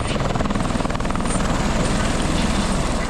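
A helicopter's rotor thumps steadily and loudly throughout, a close, continuous chopping drone with engine whine and no pauses.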